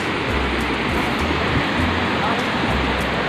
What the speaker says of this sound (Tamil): பாருங்களா தண்ணி ஊற்றுது.